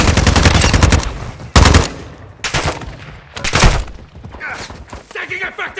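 Loud, close automatic gunfire from the video game Call of Duty comes in several rapid bursts separated by short pauses, with a faint voice in between.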